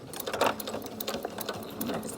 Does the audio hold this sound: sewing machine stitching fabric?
yes